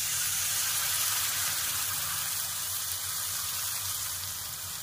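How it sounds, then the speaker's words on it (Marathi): Water is poured into a hot pan of oil while cooking besan, giving a steady hissing sizzle with a watery splash that holds fairly loud and even throughout. "त्यानंतर आहे ना ह्याच्यामध्ये पाणी टाकून घ्यायचं"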